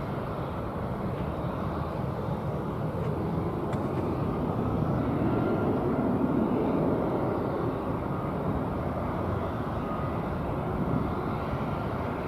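American Airlines A320 airliner bound for Reno at DFW Airport, giving a steady, moderately distant engine rumble that holds evenly throughout with no talk.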